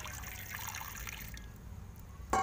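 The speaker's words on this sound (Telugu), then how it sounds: "ఇక ఉడుకుకి వాటర్ అయితే పోసుకుంటున్నాం చూడండి." Water trickles and splashes as it is poured into a pot for boiling, ready for ragi roti dough over a wood-fired stove; a faint, steady liquid pour ends in a brief louder splash.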